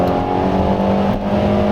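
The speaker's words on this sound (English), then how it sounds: "You are going to deal with a little bit of that protruding engine noise" A 2016 Kia Sedona SX-L minivan engine drones steadily under acceleration, heard from inside the cabin as a loud, even hum with a faint whir and no pauses.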